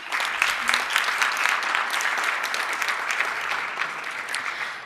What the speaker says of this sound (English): I am going to ask if we just hold the applause